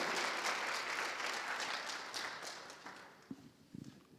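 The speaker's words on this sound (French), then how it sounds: "Je vous demande, s'il vous plaît, d'applaudir très fort pour Baye Paté Cheikh" Audience applause at a televised French-language business showcase, a dense wash of clapping that gradually thins and fades to a few scattered claps at the end.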